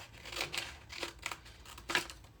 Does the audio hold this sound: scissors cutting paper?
yes